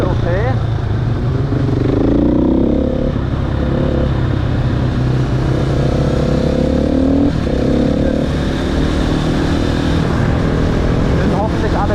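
Mopeds ride through a city street at night in Nice, their engines droning steadily and rising in brief revs, with voices talking loudly over the motor noise throughout.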